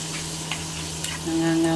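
Food frying in cooking oil is stirred in a pan, giving a steady, close sizzle with faint scraping over a low background hum.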